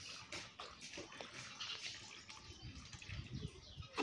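Water running steadily into a bath, a continuous broad splashing wash with faint dripping and a bird somewhere in the background.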